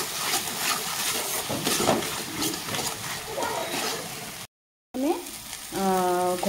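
Spice masala with salt and turmeric sautés in a pan for a jackfruit kofta curry, a steady close sizzle that breaks off for a brief silent gap, then returns with a few tonal sounds near the end.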